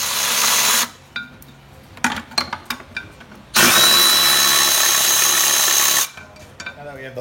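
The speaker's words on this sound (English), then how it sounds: "Take the bolt right out." A power tool whirs in two sustained loud bursts while removing a bolt from a vehicle torque tube, separated by clanks and handling noises in a workshop.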